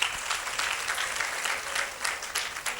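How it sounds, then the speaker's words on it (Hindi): An audience at a diocesan youth convention in Bareilly breaks into steady, dense applause, a continuous wash of many hands clapping that fills the whole moment without voices on top. "के लिए एक बार जोरदार तालियां बजाएंगे हम लोग"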